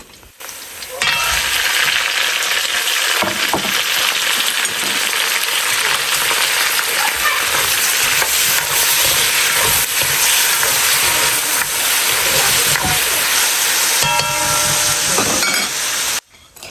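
Aloo palak, potato and spinach, cooks in a home kitchen pan with a loud, dense, continuous sizzle and hiss, heard close up and alone for most of its length.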